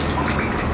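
Water dripping and trickling out of a floor-cleaning mop after its wringing lever is pulled, a steady close watery splatter through the whole moment.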